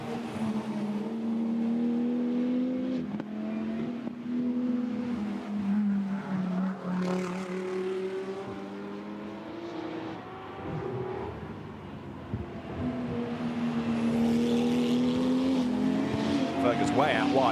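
GT2 race cars lap the Spa circuit on a wet track during free practice, their engines droning loudly with rising and falling pitch as they accelerate and shift, under steady commentary.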